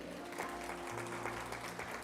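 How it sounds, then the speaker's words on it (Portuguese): A church congregation applauds faintly during a Portuguese-language sermon, soft distant clapping over sustained low organ or keyboard tones. "Você pode aplaudir esse Deus por isso?"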